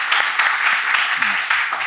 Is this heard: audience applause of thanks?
yes